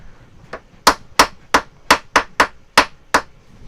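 A small metal hammer strikes a screw sharply about nine times in a steady rhythm, close and loud, with brief quiet gaps between blows.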